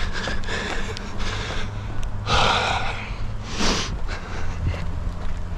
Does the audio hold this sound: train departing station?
no